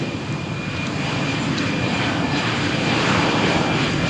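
An EasyJet jet airliner accelerates down the runway for takeoff at Malaga Airport on a stormy morning, a dense, steady engine roar that swells slightly toward the end, loud and near.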